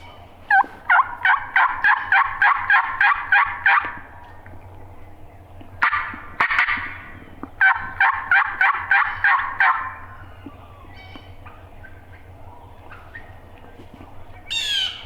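Wild turkey gobblers calling in the woods at dawn, loud rapid gobbling bursts in repeated series, several rolling calls close by with pauses between, over a quiet background.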